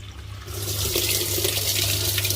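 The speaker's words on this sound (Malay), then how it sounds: "air keluar." Water begins gushing out of a Samsung washing machine with a sudden loud rush and keeps flowing steadily, accompanied by a low mechanical hum.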